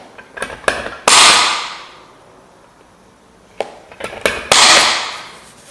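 A hammer strikes a metal punch to mark a workpiece for a school vintage car model project: two groups of three sharp metallic taps, each group ending in a ringing louder blow, close and clear with a pause between.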